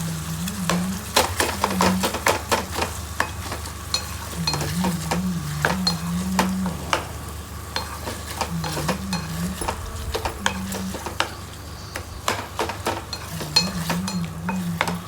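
Cherry tomatoes stirred in a frying pan, with a steady sizzle, frequent scraping and clinking of a utensil against the pan, and a low hum with a wavering tone running underneath.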